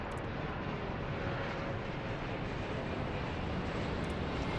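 Jet airliner taking off in the Airport Madness airport game, a steady, loud broadband engine roar holding at even strength with no talk over it.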